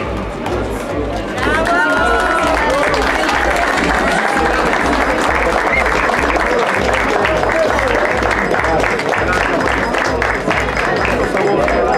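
A crowd at a contest in Actopan applauds loudly and continuously, with chatter and voices mixed in and a rhythmic low thumping beneath the clapping.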